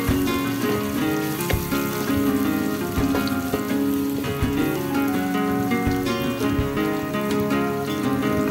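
Shallots and garlic sizzle and crackle in a hot pan, a steady close frying hiss dotted with small pops and no voices.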